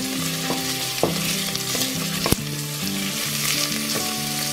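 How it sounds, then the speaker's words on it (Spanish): Chopped onion sizzling steadily in hot olive oil in a home kitchen pan, a continuous close crackle with a few soft clicks of stirring, no talking. "Ya que está caliente nuestro aceite, le vamos a agregar la cebolla."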